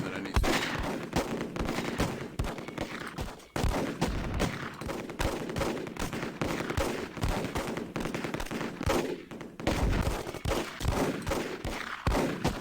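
MG42 machine gun fire in the wartime strategy game Close Combat, with sustained rapid bursts and scattered gunshots crackling almost continuously, loud and close, with brief pauses between volleys and battle noise layered throughout.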